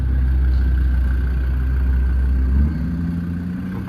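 Lamborghini Urus Performante SUV engine idling close by with a steady low rumble, then the note drops and settles lower near the end, with no talk.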